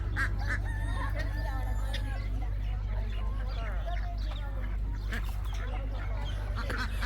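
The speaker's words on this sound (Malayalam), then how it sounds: "താറാവ് എല്ലാം ഉണ്ട്." A dense, continuous chorus of quacking ducks and clucking chickens fills a poultry yard that also keeps emus, with overlapping calls near and far, an occasional crow, and a steady low rumble underneath throughout.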